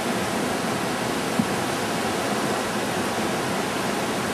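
Floodwater rushes under a city park bridge, running only a few feet below the deck and nearly up to the lawn, as a steady, loud broadband roar that continues unbroken throughout.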